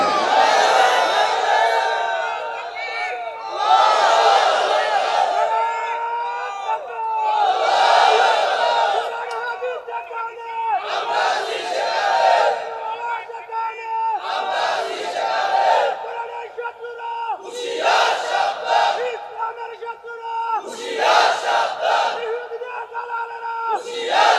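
A large crowd at a religious gathering chants the takbir, Allahu Akbar, in repeated loud unison swells, about eight rhythmic call-and-response bursts separated by brief pauses.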